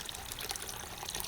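A thin stream of running water pours and trickles into a cat's watering bowl inside an outdoor enclosure, quiet and continuous with no talking.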